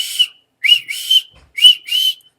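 A person whistles to imitate a phone app's loud notification whistle: a quick rising chirp, then two longer shrill phrases, then a similar pair of notes, close and clear with no talking.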